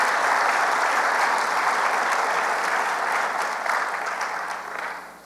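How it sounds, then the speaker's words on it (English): Audience applause for students in a chapel service honoring biology, chemistry and business students, a steady, dense clapping from a large crowd that holds strong and then tapers off toward the end. "Let's now give a round of applause for these students from the Department of Biology and Chemistry and the Ganey School of Business."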